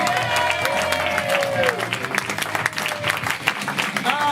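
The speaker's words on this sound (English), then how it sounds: "let's keep that applause going for all our volunteers that helped us out tonight" A crowd at an evening event claps and cheers for the volunteers, with dense applause throughout, scattered whoops and whistles, and a voice over a microphone in the mix.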